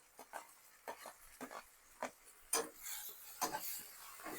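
Chopped tomatoes drop into browned onions frying in a pan for fresh green pea keema, followed by a run of scraping stirs and a rising sizzle, close and moderately loud, with no talking.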